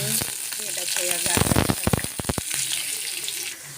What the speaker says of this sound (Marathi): काजू बदाम थोडेसे फ्राय करून घेऊया